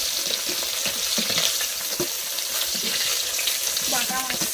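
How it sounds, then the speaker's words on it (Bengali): Fish frying in a pan, a loud, dense, continuous sizzle up close with occasional clinks and scrapes of a utensil. "মাছ ভাজা হয়ে গিয়েছে,"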